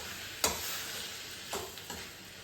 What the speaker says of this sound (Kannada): ಆಮೇಲೆ ಇವಾಗ ನಾವು ಕ್ಯಾಶ್ಯೂಸ್ ಹಾಕ್ಕೊತಾ ಇದ್ದೀವಿ.